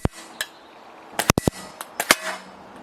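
Slingshot shots striking a Poron XRD catchbox, a scattering of sharp, close cracking impacts, a few louder snaps clustered together amid quieter ticks, with no talking.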